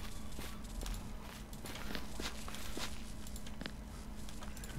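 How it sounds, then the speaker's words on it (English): Footsteps of a player character in the video game Beautiful Desolation, a run of soft, evenly spaced steps over a steady low ambient drone, moderately quiet with no voice. "they actually put in the different sounds for my footsteps"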